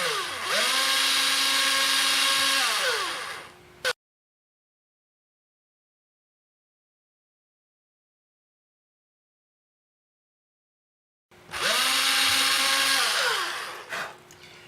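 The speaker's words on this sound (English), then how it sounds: "you want to try to drill through the center as much as possible" A power drill with a 1/16 bit bores a peg hole through ebony wood, whining loudly for about four seconds, then silence, then a second similar burst of drilling with pitch shifts as it spins up and down.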